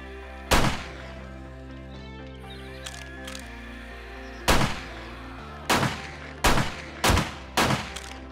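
Pipe weapons firing in the survival video game 7 Days to Die: sharp, loud shots in an irregular sequence, with a single blast early, a pause with faint clicks, then a quicker run of five shots near the end over a steady low game hum.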